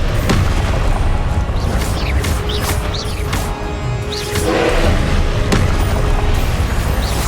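Confringo spell blasts in Hogwarts Legacy fire one after another as loud, booming explosions with crackling bursts and whooshing magical sweeps layered over a busy game soundscape.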